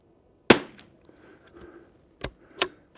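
Tikka T1X rimfire rifle firing CCI standard velocity ammunition outdoors in cold, windy conditions; one sharp, loud shot followed by fainter clicks and then two more sharp cracks near the end, with no talking.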